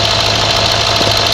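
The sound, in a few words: Range Rover L322 V8 diesel engine running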